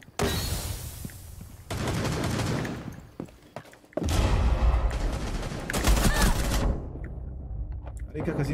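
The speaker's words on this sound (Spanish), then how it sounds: "creo que hubo un tiro ahí" Gunfire from the video game Rainbow Six Siege crackles in several loud bursts of rapid shots, separated by short lulls, with a player's voice talking underneath.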